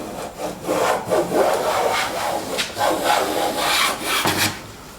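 Hand plane shaving wood with a series of rasping, rhythmic strokes, close and fairly loud, each pass a bright scraping hiss.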